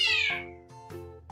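A cat meows loudly and close by, a long descending cry followed by two shorter meows in quick succession.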